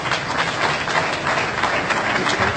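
Sustained applause from an audience at an award ceremony, a dense, even wash of clapping that holds steady throughout with no speech over it.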